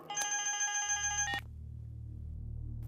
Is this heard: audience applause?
no